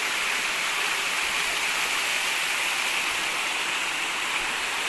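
Water pouring steadily at the Kuttupatti waterfall in the dry season, a dense, unbroken rushing roar that stays constant with no voices heard.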